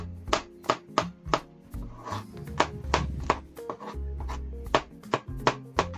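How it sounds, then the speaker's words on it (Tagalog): Garlic being crushed and then finely chopped with a knife on a board, a series of sharp, close, roughly regular knocks with brief pauses and softer scraping between strikes, no talk. "Tapos ang bawang naman po ay hihiwain ng maliliit lang. Pitpitin at saka hiwain ng maliliit."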